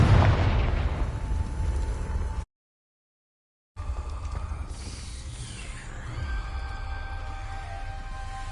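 A Confringo fire-blast spell in Hogwarts Legacy erupts with a loud, broad roaring burst, cuts to brief silence, then returns as a sustained rumbling explosion with a rising whoosh and lingering magical tones.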